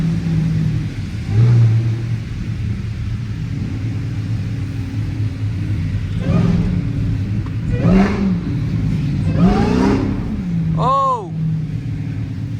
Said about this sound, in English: I just did a burnout and I didn't even hit the brake